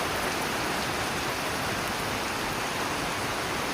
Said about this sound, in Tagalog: Magdamag na ulan na naman to guys.